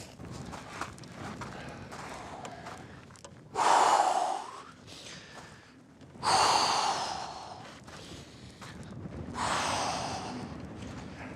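A person breathes heavily from exertion while climbing at 4500 m altitude, with three loud, close, rasping gasps separated by quieter breathing and faint footsteps.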